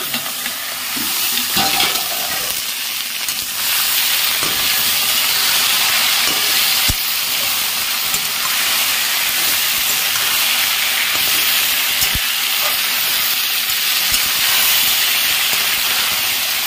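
Steam hisses steadily from a cooking pot of spring onions with water after the lid comes off, a loud broadband rush with a few faint clinks underneath.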